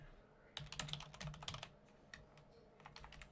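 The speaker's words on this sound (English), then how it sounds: "Bo Crowler, you're typing in some kind of language" Fingers type on a computer keyboard, a quick irregular run of faint clicks and taps that pauses briefly, then resumes. No one speaks.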